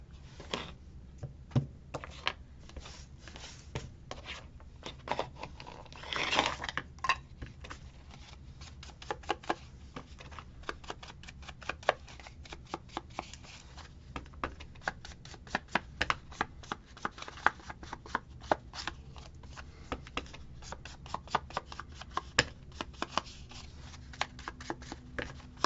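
Paper or cardstock cut freehand with scissors for a decorated master board, a quiet run of rapid snipping clicks in irregular bursts over faint background noise.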